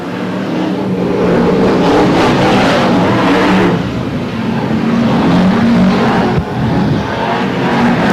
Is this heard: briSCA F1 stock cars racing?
yes